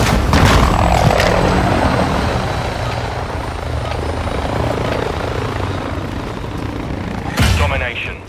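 Helicopter rotor and engine roar at the spawn-in of a Call of Duty Modern Warfare II Domination match, a steady loud drone throughout with brief bursts of game effects near the end.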